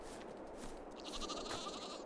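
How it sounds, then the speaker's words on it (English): Wool sheep in Farming Simulator 22 give a single wavering bleat over a steady background hum, faint and fairly close, with no talking. "we have sheep, and those are the normal sheep that produce wool"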